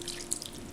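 Quarter cup of water poured into a chicken masala mix of turmeric, pepper powder and salt for chicken ela ada, a short soft splash and drip in a quiet kitchen.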